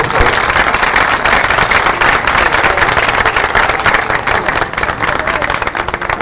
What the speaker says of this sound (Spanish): Un aplauso para estos estudiantes.